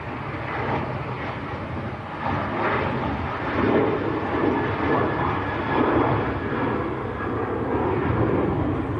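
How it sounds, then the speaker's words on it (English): A Ryanair airliner takes off, its jet engines making a broad, steady roar at moderate distance that swells slightly and holds throughout. "Ryanair to Riga, just getting airborne."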